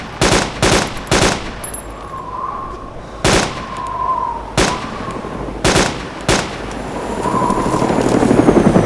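A helicopter in DayZ makes a rotor drone that swells toward the end, and sharp, loud bursts of gunfire break in repeatedly over it.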